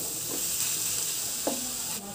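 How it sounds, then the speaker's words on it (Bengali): Boiled potatoes, green chillies and greens being stirred in a frying pan, with steady sizzling and a few soft spatula scrapes against the pan. "এইভাবে সব নাড়াচাড়া করে ভালো করে নাড়িয়ে দিচ্ছি।"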